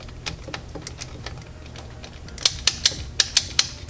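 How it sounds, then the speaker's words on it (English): A miter saw's replacement handle switch is pressed into place, giving a run of sharp, close mechanical clicks, with a louder, faster cluster of clicks toward the end against a low background hum. "We want to make sure that it does click."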